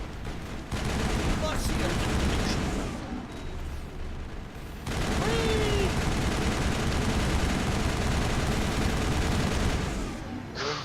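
Sustained assault rifle fire in the Mass Effect video game, dense rapid bursts that barely let up for the whole stretch, loud and close with only short gaps between strings of shots.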